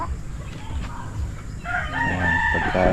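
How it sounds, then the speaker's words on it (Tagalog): A rooster from a small backyard flock of fighting cocks and hens crows loudly and close by, with hens clucking underneath against steady farmyard background noise. "pagkain naman ng kanyang alagang mga manok na pwedeng pang sabong at mga inahin"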